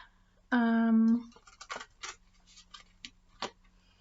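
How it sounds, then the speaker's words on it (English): Tarot cards are shuffled in quick, papery riffling bursts, close and fairly quiet, after a short steady tone near the start. "So I'm just going to shuffle the cards."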